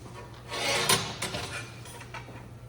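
Metal being cut by hand with a saw or file, a few rough rasping strokes, moderately close and fairly quiet over a low steady hum.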